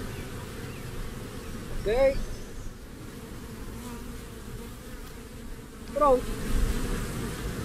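A swarm of honeybees being moved into a hive box hums steadily in the background, with two brief bursts of someone speaking over the buzz.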